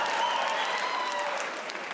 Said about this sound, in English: How about our applause for this registered Democrat, everybody?